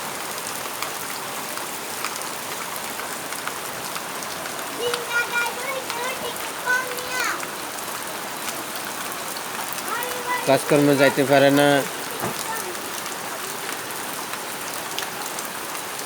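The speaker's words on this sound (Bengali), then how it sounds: "ওই যে বৃষ্টি এভাবে চলিতেছে কালকে রাত্রে থেকে" Continuous rain falls steadily during a flood in Gutti Union No. 5, a dense, even patter under brief talk from nearby voices.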